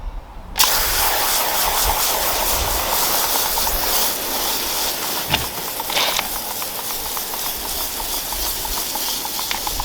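A hand-pump snow foam sprayer being worked on a car gives a steady, loud hissing spray that runs almost unbroken for about ten seconds, with a few faint clicks and knocks on top.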